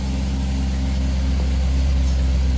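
A 1980 MG's engine idles steadily while warming up, a close, continuous low rumble with a constant drone and no revving throughout.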